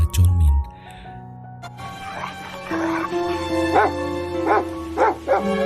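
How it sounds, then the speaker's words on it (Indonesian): Dingga the dog barks excitedly in a run of several sharp, close barks, heard over a background of music and other sound. "Dingga menggonggong layaknya bertemu dengan pemiliknya"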